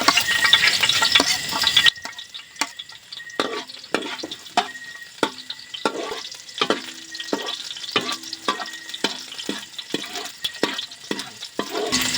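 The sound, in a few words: sautéing garlic in a pan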